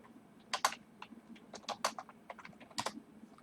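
Computer keyboard typing nearby: quick irregular bursts of key clicks with short pauses between them, no one speaking over it.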